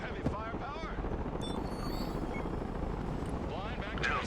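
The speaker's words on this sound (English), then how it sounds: "Let's get the choppers out." Military helicopters fly in the video game Broken Arrow during a Delta Force drop, their rotor drone running beneath battle effects and radio chatter, with a voice speaking over the engines.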